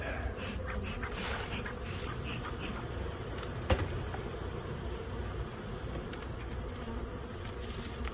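Honey bees swarm in an opened hive with a dense, continuous buzzing drone that fills the scene at steady loudness, broken by one brief sharp knock partway through.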